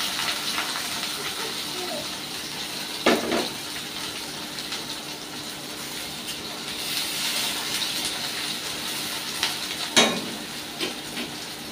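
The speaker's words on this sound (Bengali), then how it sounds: "পেঁয়াজগুলো একটু হালকা করে ভেজে নেব, খুব বেশি কড়া করার দরকার নেই" Chopped onions frying gently in a pan give a steady soft sizzle all through, with a couple of sharper stirring clatters, and a person talks over the cooking.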